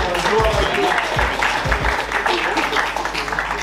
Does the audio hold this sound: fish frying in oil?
no